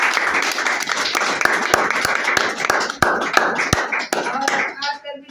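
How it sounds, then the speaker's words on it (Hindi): Audience applause at a live product presentation, a dense spread of hand claps building and then thinning out over several seconds, with sharper individual claps near the end. "इसलिए हम चाहते हैं कि इस प्रोडक्ट के लिए एक ताली हो जाए"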